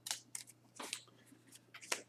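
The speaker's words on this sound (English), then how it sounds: "what we're going to do is shuffle up our 8 cards" Eight playing cards shuffled by hand for a tabletop game, giving several short crisp riffling bursts at close range with brief pauses between them and no talking.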